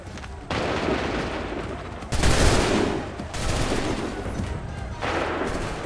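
Musket volleys in the Assassin's Creed 3 video game, several loud, dense bursts of massed gunfire rolling out one after another in quick succession with sustained crackling rumble between them.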